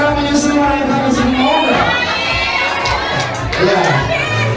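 Wedding guests at an indoor reception hall in Bogor shout and cheer loudly together, a dense, continuous crowd roar with high excited voices rising and falling throughout.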